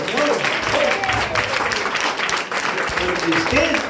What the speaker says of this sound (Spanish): Pues le va a dar un aplauso de ese Señor.